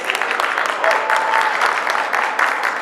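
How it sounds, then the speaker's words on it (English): An audience at a panel discussion claps for the panelists and moderator, giving a dense, moderately loud applause that keeps up with no talking. "round of applause for our panelists and moderator"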